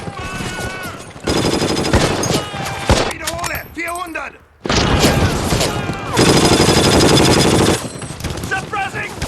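Rapid machine-gun bursts and rifle fire in a WWII battle scene with Easy Company, loud and dense, broken by brief pauses and shouted soldiers' commands over the gunfire.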